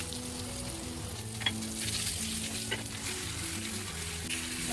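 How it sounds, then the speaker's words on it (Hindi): Masala with tamarind pulp sizzles and fries in a pan for an aloo baingan curry, a steady close crackle with occasional stirring scrapes, and no talk over it. "अब मसाले में मैं थोड़ा सा इमली का पल्प डाल"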